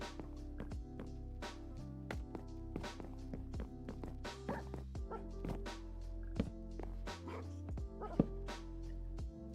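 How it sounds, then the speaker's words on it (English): Dog barks and yips from a video game, repeated sharp bursts over steady tonal game music and background sound, moderately loud throughout. "the dog sounds more vicious now"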